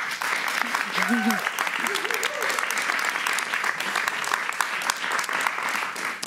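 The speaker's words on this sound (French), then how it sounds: "On les applaudit très fort, s'il vous plaît." Studio audience applauding loudly and steadily at a French television talk show, the clapping sustained throughout with a few voices rising briefly over it near the start.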